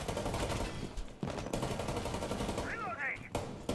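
Rapid automatic gunfire crackles in a Rainbow Six Siege match, with dense bursts of shots running almost continuously and a brief gap near the end, fairly loud and close.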